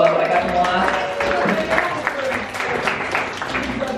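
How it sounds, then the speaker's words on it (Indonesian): An audience claps for the staff at a Clash Royale tournament in Jakarta, a short dense burst of applause from a crowd with voices mixed in. "Jadi tolong beri tepuk tangan dong buat mereka semua."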